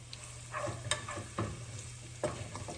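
Minced shallot and garlic frying in a pan, a steady low sizzle with a few sharp stirring clicks and scrapes scattered through, close and fairly quiet.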